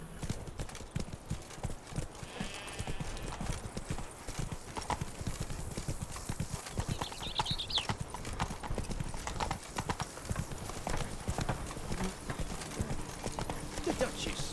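Roach, a horse in the video game The Witcher 3, trots with a steady, rapid clip-clop of hooves, close and continuous, with faint ambient music and a brief snort.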